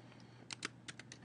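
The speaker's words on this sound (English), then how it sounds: "I'm going to just start typing in this box" Keys clatter on a computer keyboard as text is typed into a story-editing box, a quick irregular run of light clicks over a steady low background hum, with no talk.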